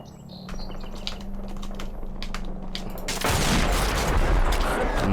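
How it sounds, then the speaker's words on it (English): A grenade explosion in the video game Combat Mission: Cold War, arriving as a sudden dense roar after scattered distant pops and crackling gunfire, then sustained loud noise to the end. "I think that might just be a grenade that comes in"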